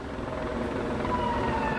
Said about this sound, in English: you can probably hear the sheriff's helicopter that's going overhead